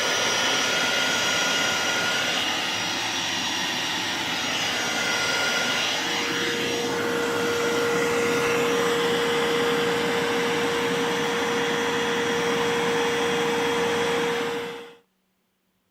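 A Vax Blade 32v Pro cordless stick vacuum whirs steadily at close range, a loud constant drone with a high whine that cuts off abruptly at the end.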